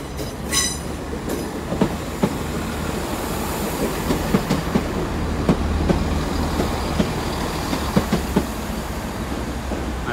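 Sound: Class 165 diesel train arriving at Exeter St Davids station

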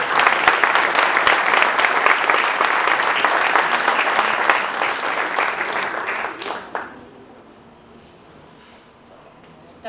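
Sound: applause for the award winners

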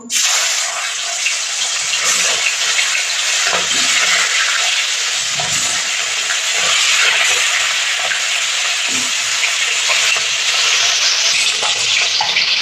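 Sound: Bhola fish frying in hot oil in a wok

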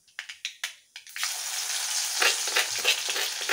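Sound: onions and chillies frying in a pan

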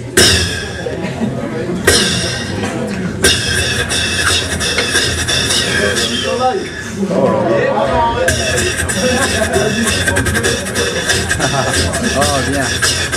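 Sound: beatbox imitation of open hi-hats

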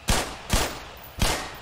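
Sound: gunshots hitting an exploding barrel in the video game Black Mesa

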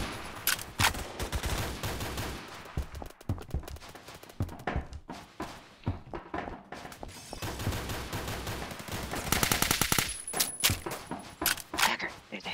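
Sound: gunfire from snipers in a Roblox video game

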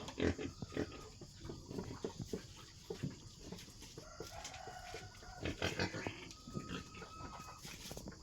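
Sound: pregnant wild boar crossbreed pig in pen

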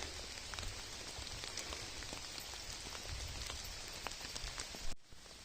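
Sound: rain falling

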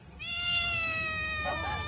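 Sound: cat meowing

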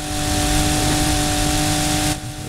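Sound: car engines revving in the video game Need for Speed Heat

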